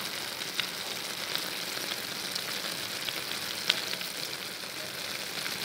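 Eggplant and minced pork stir-frying in a pan give a steady, close sizzle and crackle, with a few faint stirring clicks throughout and no talking.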